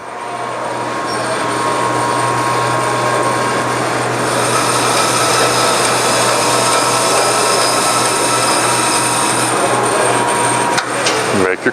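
Steady, loud hum and whine of a Model 2054R roll cutting bandsaw running, a constant drone with a brighter tone joining a few seconds in, then a clatter as it stops near the end.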